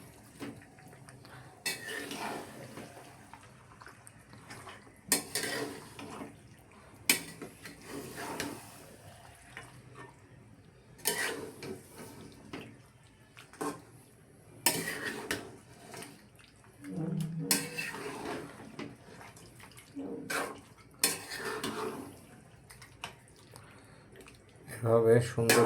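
Beef pieces are stirred in a pot to coat them in spices, for a dish of beef with new potatoes. A spoon knocks and scrapes against the metal pot in irregular bursts, with quiet pauses between them.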